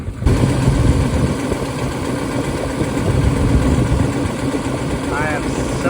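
A 1970 Plymouth Hemi 'Cuda engine idles with a steady, rough low rumble up close, running throughout as someone talks over it.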